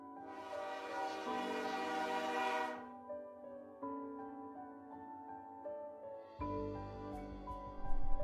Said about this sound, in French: Marie regarde les trains arriver et partir.